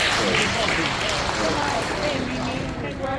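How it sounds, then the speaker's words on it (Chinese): A church congregation at a prayer house dedication and 60th anniversary service applauds to welcome a music teacher, a dense steady clapping from a crowd with voices mixed in. "我们掌声欢迎"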